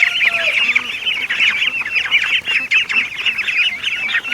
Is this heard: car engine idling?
no